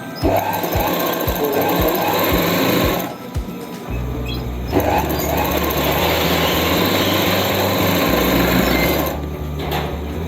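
Sewing machine stitching a one-inch folded hem on palazzo pants, running in loud steady bursts with a short pause near the start and a brief drop near the end.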